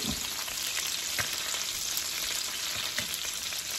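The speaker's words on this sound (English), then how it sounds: "But I'm gonna brown them like I wanna brown them." Homemade meatballs browning in a frying pan give a loud, steady sizzle with continuous fat crackle and small pops, close and with no talking.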